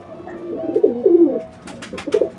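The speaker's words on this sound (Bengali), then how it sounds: "ওই দেখো ডাকছে কেমন সেটা দেখো" A pigeon coos nearby in a short, deep, throaty rolling call, repeated twice with a brief gap and some light rustling between.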